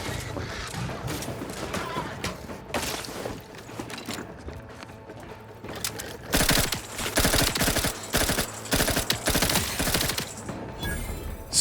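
Gunfire in The Outer Worlds 2 during a fight with a raptidon juvenile, irregular shots at first that build into a dense, loud automatic volley in the second half over game effects.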